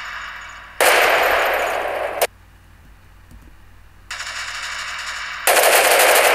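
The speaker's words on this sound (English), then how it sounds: "it doesn't continue shooting because we didn't put sound effects for the muzzle flash" Loud, near machine gun fire used as a sound effect in an edit, coming in two sustained bursts of rapid shots separated by a quieter gap with a softer run between them.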